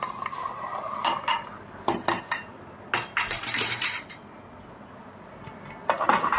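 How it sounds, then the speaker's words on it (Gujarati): Metal pressure cooker lid being fitted and closed after stirring a gram-flour drumstick vegetable dish, a series of sharp clinks and clatters in bursts, close and fairly loud, with quiet gaps between them. "હવે એને આપણે કુકરનું ઢાંકણું બંધ કરીને 5 વિસલ વગાડી દઈશું."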